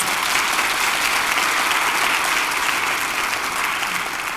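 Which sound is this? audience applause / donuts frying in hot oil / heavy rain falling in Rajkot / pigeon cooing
audience applause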